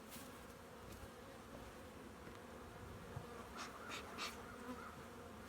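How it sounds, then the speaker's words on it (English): Honeybees newly moved into a mating nuc hive buzz steadily around the box, a continuous close insect drone with a few louder passes near the end. "these bees might not look too happy because I just moved them here. They're going to fly out"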